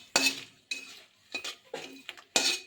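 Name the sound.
panch phoron spices added to pan for tempering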